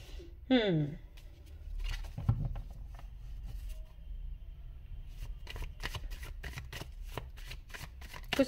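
Tarot cards being shuffled and drawn: a run of crisp riffling and snapping card sounds, fairly close, with a brief voice early on and soft rustles between the bursts.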